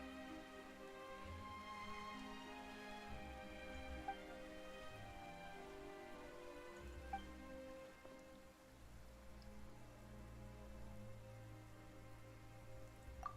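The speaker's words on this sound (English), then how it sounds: "Why is it raining all of a sudden?" Steady rain patter from the Genshin Impact video game, a soft continuous wash of drops over sustained musical tones, fairly quiet and without talk.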